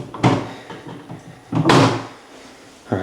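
A wooden drawer or cabinet in an abandoned mansion is pulled and pushed, giving two loud knocking slides with a rattle between them, close and with no talk.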